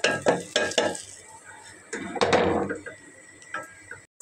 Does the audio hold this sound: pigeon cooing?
no